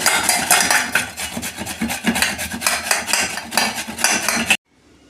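A large washed carrot is rubbed over a grater for carrot halwa, giving a steady, close rasping scrape that continues in quick strokes for several seconds before cutting off abruptly.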